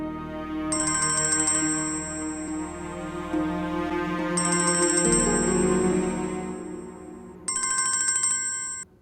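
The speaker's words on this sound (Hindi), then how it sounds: "किसका फोन है?" Mobile phone ringtone for an incoming call in a domestic drama scene, a bright electronic melody repeating in three loud bursts with quieter musical tones in between and no speech.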